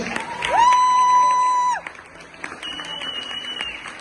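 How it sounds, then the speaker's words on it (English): Audience applause at a bodybuilding show's awards announcement fills the room with steady clapping and crowd noise, and a loud whistle cuts through it before the applause trails off into scattered claps and murmuring. "Regardless where your allegiances lie, a big round of applause."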